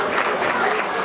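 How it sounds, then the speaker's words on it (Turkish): Crowd at a wedding breaking into loud, dense applause, close and continuous, with a voice mixed in. "Hadi büyük bir alkış isterim şu aile sahibi."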